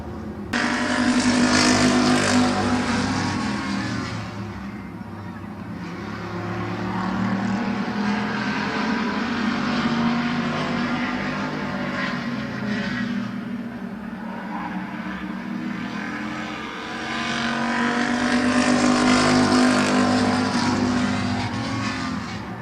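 Race cars lapping Midvale Speedway, a loud, continuous engine roar that swells as the pack passes close, eases off, then surges again, with no talking.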